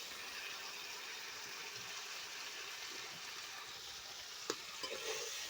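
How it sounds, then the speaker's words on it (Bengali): Drumstick vegetables sauté with spices in a pan, giving a faint, steady sizzle and frying hiss with soft stirring, then a couple of light clinks near the end. "মশলা সহ কষে নেব সবজিটা।"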